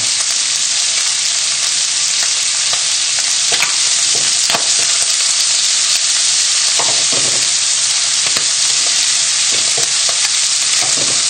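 Loud, steady sizzling of chicken livers frying in a pan, with scattered sharp pops and crackles and occasional stirring scrapes throughout.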